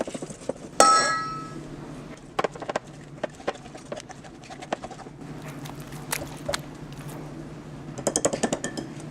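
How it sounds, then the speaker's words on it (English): Madeleine batter being spooned into a baking pan in a home kitchen, with scattered light clinks and taps of a spoon against metal, quiet between clusters of small knocks. "we're going to spoon the batter into the pan"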